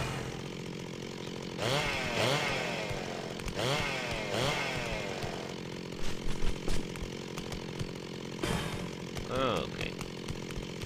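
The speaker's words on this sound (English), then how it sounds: "I have to listen to that fucking chainsaw again." Mechanical saw in the PC game Messiah, whining with repeated rising-and-falling revving sweeps and grinding bursts, fairly close and loud with clattering between passes, no talk.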